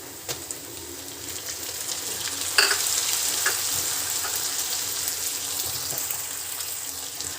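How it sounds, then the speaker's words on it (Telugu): Tomatoes and curry leaves frying in oil in a pan for meal maker curry make a steady hissing sizzle, with a few stirring knocks and a louder burst partway through, close and continuous. "ఇప్పుడు మనము టమాటా వేసుకుందాం"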